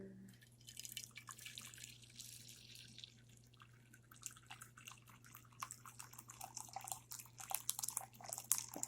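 Hot water poured over elderberry flowers, lavender essential oil and frankincense for a facial steam: a quiet, close trickle and drip of liquid into a bowl, steady and gentle, with faint splashes growing busier toward the end.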